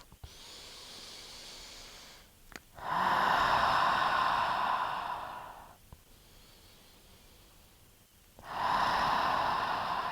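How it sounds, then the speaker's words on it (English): A person doing yoga takes deep cleansing breaths. Two long, loud, hissing exhales are separated by quieter inhales, close and rhythmic. "5 deep cleansing breaths"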